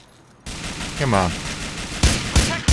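Grand Theft Auto 4 gunfire begins with a burst of dense, noisy shots, and a few sharp single shots land near the end. A short tonal sound sits between them.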